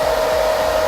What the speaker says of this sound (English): So you're gonna take your diffuser, you're gonna start from the bottom,